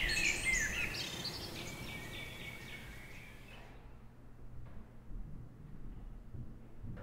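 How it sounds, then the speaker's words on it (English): Forest bird calls played through a telephone receiver in an art exhibit, heard as faint, thin chirps and trills over soft hiss for the first few seconds, then fading to near quiet. "when you pick up the receiver, you actually hear the sound of the forest. The bird sounds, the bird calls"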